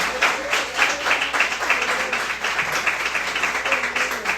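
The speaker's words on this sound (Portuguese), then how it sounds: "Aplauda o Senhor com o seu melhor." A church congregation at an Igreja de Nova Vida service breaks into sustained applause, with the clapping filling a lively room and voices raised beneath it.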